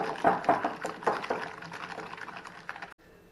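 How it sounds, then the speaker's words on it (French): Thick carrot cake batter being poured into the bowl of a Moulinex i-Companion Touch XL food processor, a close, wet glugging and splattering flow with soft liquid bursts that stops abruptly near the end. "je viens ajouter ma préparation à celle du robot"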